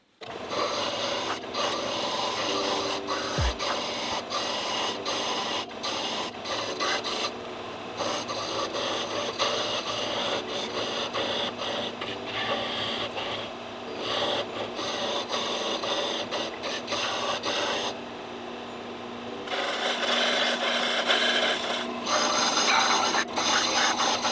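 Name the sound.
band sander shaping wooden reindeer legs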